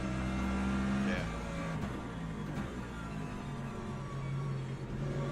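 Hypercar engines drone steadily during a race at Sebring in a racing game, a sustained engine hum with shifting tones as the cars run through corners.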